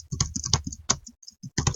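Rapid clicking keystrokes on a computer keyboard, close and crisp, in an irregular burst with a brief pause before another cluster of taps.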